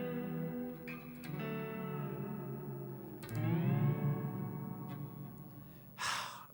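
Electric guitar fed through a delay effect, a few picked notes and bends trailing off in echoing repeats, quiet and close with no talking.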